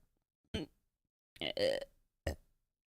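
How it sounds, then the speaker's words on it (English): A single person lets out a burp among a few short, close vocal bursts. The sounds are separated by brief silences in a quiet room. "And so, hold on, burp."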